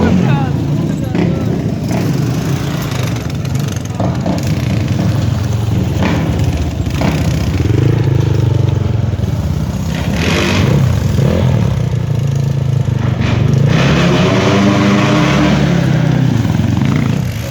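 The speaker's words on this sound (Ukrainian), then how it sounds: "мотоциклісти, які без проблем по сходах туди заїжджають" Motorcycle engines rev and buzz nearby in rising and falling bursts inside an abandoned building, mixed with clatter and people talking over the noise.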